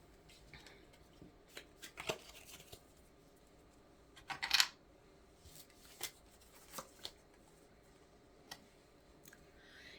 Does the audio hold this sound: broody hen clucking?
no